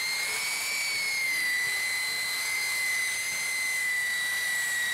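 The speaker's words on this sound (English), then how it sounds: "I'm sanding this edge where it goes from the flybridge sofa to the inside of the box" A steady high-pitched whine of a power sander on a boat's flybridge deck locker edge runs continuously, close and even, with no voices.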